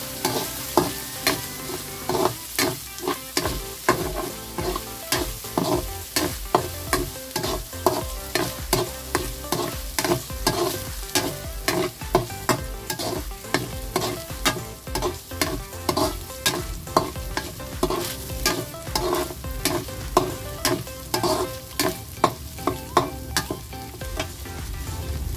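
Ground meat for spaghetti sauce sizzles in a pan while a utensil stirs it in quick, steady scraping strokes, a close, continuous fry with rhythmic clacks throughout.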